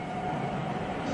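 A train arriving at Dover in an archival newsreel rumbles steadily, a continuous low mechanical roar with a faint tonal hum, evenly loud and unbroken, heard through a dull, noisy old recording.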